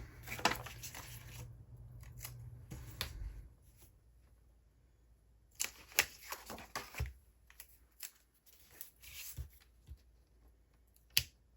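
Scissors snipping planner stickers for a Halloween-themed vertical Happy Planner layout, a series of quiet crisp cuts and clicks in short irregular bursts, close up and faint, with paper handling between cuts.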